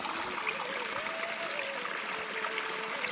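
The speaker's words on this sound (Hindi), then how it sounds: "ये देखिए जी यहाँ पे कितना मोटा पानी आ रहा है ना, पता नहीं कहाँ से आ रहा है, ज़मीन के अंदर से" Water from an underground source wells up and runs in the rainy season on a hillside, giving a steady, fairly loud stream-like rush and trickle throughout, with no voices over it.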